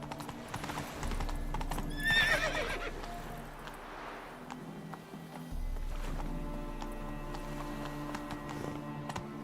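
Hooves of Roach, Geralt's horse in The Witcher 3: Wild Hunt, clip-clop in a steady gallop, with a sharp whinny early on, over a low droning game soundtrack.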